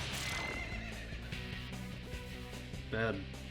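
A horse-like demon neighs in Shin Megami Tensei III: Nocturne HD Remaster, one loud whinny near the end over steady game music.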